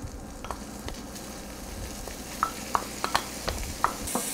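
Pancetta sizzles in olive oil in a sauté pan, a steady close frying hiss broken by several sharp clinks and scrapes of a utensil stirring against the pan.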